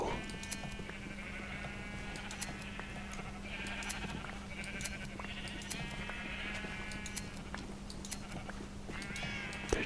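Flock of sheep in a video game bleating repeatedly while being sheared for wool, overlapping calls over a steady low hum, continuous and fairly loud with no talk.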